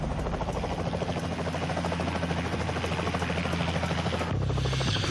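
A rescue helicopter's rotor and engine drone fills the air with a loud, continuous throbbing chop heard from close by, its pitch shifting slightly near the end, with no talk over it.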